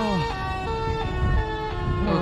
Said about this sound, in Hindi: ओके, साइरन हेड या फिर ट्रक की हॉर्न की आवाज आ चुकी है।